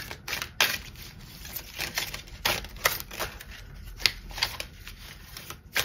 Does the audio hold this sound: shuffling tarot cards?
yes